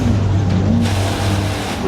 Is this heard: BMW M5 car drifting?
yes